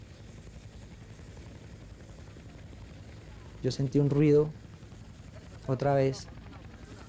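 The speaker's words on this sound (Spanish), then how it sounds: "Era un helicóptero de rescate que había llegado a esa casa" Rescue helicopter hovering over a house, a low steady rotor drone running beneath narration as a voice speaks over it in short bursts.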